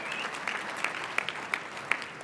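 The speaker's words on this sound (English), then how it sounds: "you can give her a round of applause for all of that" Scattered applause at a bar association installation honoring a judge, soft and fairly distant, with a few sharper individual claps standing out from the crowd patter.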